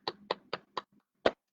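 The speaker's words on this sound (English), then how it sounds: "We're going to clap our hands together" Five sharp hand claps at a family storytime, four evenly spaced and one after a short pause, close and fairly quiet in an otherwise still room.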